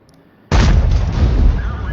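Heavy tank gun firing in World of Tanks, a sudden loud booming blast that rolls on as a dense rumbling roar for over a second after a quiet start.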